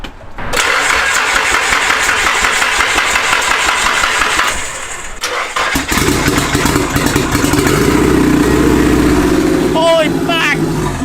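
A Nissan S13 engine cranks for several seconds with a loud, steady starter whir, pauses briefly, then catches and fires into a rough, loud idle close by, with people talking over it.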